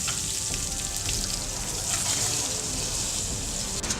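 Lamb browning in olive oil in a pan, a steady, bright sizzle and crackle with scattered pops, continuous throughout.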